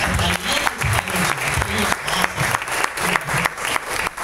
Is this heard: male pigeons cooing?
no